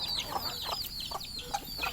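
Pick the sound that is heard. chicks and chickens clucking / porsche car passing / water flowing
chicks and chickens clucking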